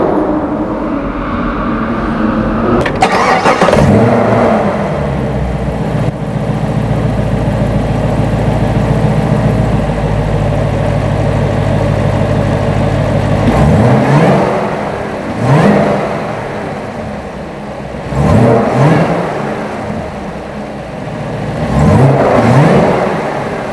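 A 2020 Chevrolet Camaro ZL1 with a 6.2-liter V8 fires up with a loud burst, settles into a deep rumbling idle, then snaps off several sharp revs that rise and fall in quick succession close by, with no talking.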